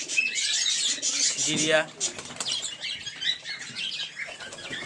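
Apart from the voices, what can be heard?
pet pigeons cooing in a pigeon collection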